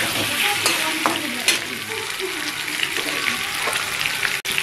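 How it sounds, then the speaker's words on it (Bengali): Potato and taro curry sizzles loudly in a frying pan while a spoon stirs it, with scraping strokes over a steady crackle of hot oil, close up. "এটাকে বেশ ভালো করে একটুখানি নাড়িয়ে নিতে হবে"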